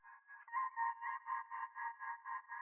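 A looped vocal sample run through a band-pass filter, reverb and an eighth-note tremolo pulse, heard alone as a steady midrange tone chopped into even rhythmic pulses about four per second.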